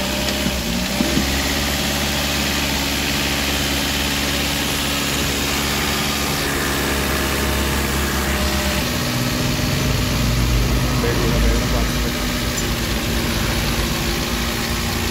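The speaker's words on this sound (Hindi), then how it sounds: "देखो भाई स्टार्ट हो गई हमारी गाड़ी" A Toyota Etios petrol engine runs at a steady idle, close and continuous, its low rumble shifting slightly in pitch partway through.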